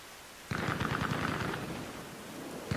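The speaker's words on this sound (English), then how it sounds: "that was one of our friendlies hopping on a machine gun and wasting ammo" A rapid burst of automatic machine-gun fire in the video game Arma Reforger, steady and fairly close, rattling for about a second before fading into a noisy background.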